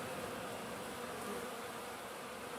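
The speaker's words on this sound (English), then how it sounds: "But then they'd go over and enter Queen Anne's hive without a problem" Honeybees buzz at a hive entrance in November. The dense, steady drone of many insects fills the clip evenly, with no voices.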